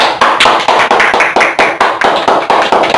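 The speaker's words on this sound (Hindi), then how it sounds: "ताली हो गए" A single pair of hands claps in a steady rhythm, about a dozen sharp, close claps spaced evenly and heard alone, after a dead phone boots during a repair.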